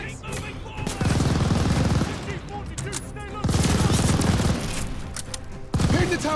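Sustained machine gun fire in Call of Duty: Vanguard, coming in three long loud bursts separated by short pauses, with dense rapid shots filling each burst.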